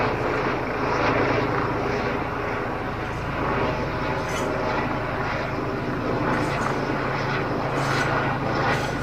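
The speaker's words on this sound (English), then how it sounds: "I'm sure the moment I stop making this video, this helicopter will also disappear." A helicopter passes overhead above a Hertfordshire allotment orchard, its steady, loud engine and rotor drone filling the whole stretch without a break and swelling slightly near the end.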